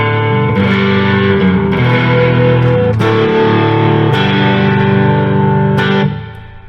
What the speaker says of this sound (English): I have a line 6 stomp pedal here, and on just a factory setting, it's just a pop my punk setting